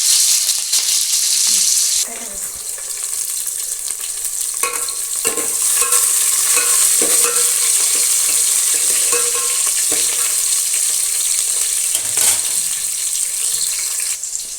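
Green chilies and onion pieces fry in a pan for Telangana-style sambar, with a loud, continuous sizzle and occasional stirring clatter close by; a watery, tap-like hiss runs through the background.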